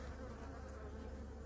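Honeybees buzz at an opened top bar hive, a soft, continuous droning hum from many insects, steady and fairly quiet throughout.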